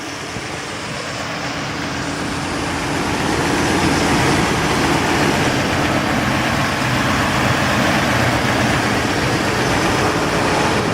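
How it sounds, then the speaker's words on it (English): A 1991 Mercedes-Benz 500SL roadster with its 5-liter V8 idles steadily, a broad, even engine rumble that swells slightly after the first few seconds and then holds, with no talking. "Very smooth engine,"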